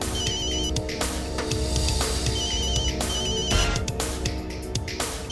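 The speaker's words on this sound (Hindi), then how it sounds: "रणवी, रणवी फोन उठा, जल्दी फोन उठा" A telephone ringtone repeats in short electronic bursts over a dense, continuous bed of dramatic background music, loud and steady throughout with no talk.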